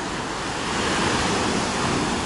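Sea waves wash onto a beach in Alanya, Turkey, a dense, continuous roar of surf with some wind rumble, close and steady throughout, with no voices.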